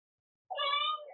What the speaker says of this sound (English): And then if you like hold him close, he'll meow.